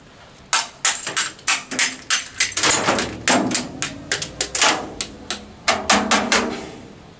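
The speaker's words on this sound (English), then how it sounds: "Hammer." Rapid, irregular hammer blows breaking apart an early 1986 Corvette rearview mirror, about twenty sharp metallic impacts with glassy cracking, close and loud, no talking.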